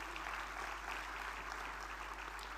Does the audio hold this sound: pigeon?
no